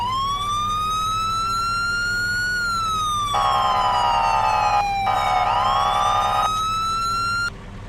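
A 2017 police pickup siren from a Farming Simulator 25 mod, a loud steady wail sweeping slowly up and down, joined midway by a harsher pulsing tone that switches off, then back to the plain wail.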